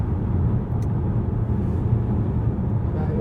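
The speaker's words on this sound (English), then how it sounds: "the wind noise is quite noticeable" Steady wind noise and road rumble inside a moving Skoda Kodiaq iV, a constant low broadband roar filling the cabin, with no talk over it.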